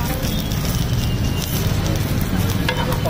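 Bread (pav) frying in a little oil on a street food griddle at an omelette stall in Jalgaon, a steady close sizzle with faint crackles and clinks, continuous throughout with no talk.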